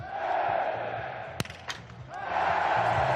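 A large outdoor biathlon crowd at Hochfilzen roars in a sustained cheer, breaks into a quieter patch with a few sharp clacks, then swells again into loud, continuous cheering.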